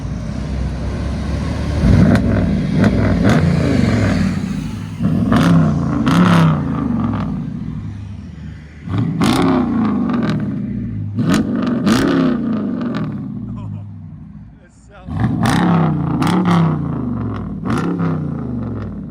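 A 2020 Dodge Charger SRT HEMI with 3-inch straight pipes: deep, raw exhaust roars through repeated revs, each throttle blip surging loudly then dropping back to a rumbling idle.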